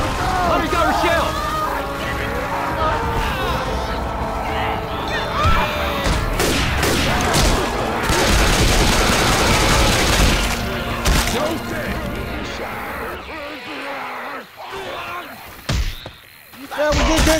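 Gunfire at the Tank in Left 4 Dead 2, heard as dense overlapping shots and impacts mixed with crashes, with players shouting over the din.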